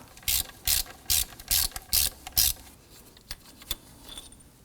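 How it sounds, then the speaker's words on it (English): A ratchet fitted with a 10mm socket and extension turns bolts near a compressor while a serpentine belt kit goes onto a 2003-2014 Volvo XC90, six loud rapid clicking bursts close by, then a few isolated clicks. "Going to use our 10mm socket and our extension here."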